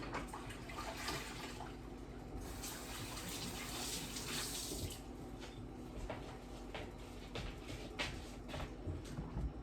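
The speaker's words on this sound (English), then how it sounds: "wash my hands" A kitchen tap runs steadily while hands are washed under it, water splashing and swishing unevenly at a low, moderate level for several seconds.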